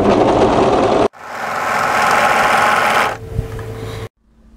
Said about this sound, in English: I'm going to overlock the edges